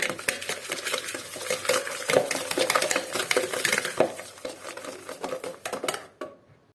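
A whisk beats eggs and sugar in a bowl, a fast steady clatter of metal against the bowl that keeps a quick rhythm for several seconds before stopping abruptly.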